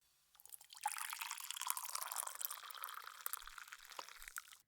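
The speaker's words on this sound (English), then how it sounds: "Let me pour you a cup," Hot herbal tea is poured into a cup, a close, steady liquid splash that starts after a short pause, runs for about four seconds and stops abruptly.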